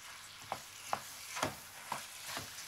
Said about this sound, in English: Give this heavenly concoction a good mix, and let it cook together for a tantalizing 5 minutes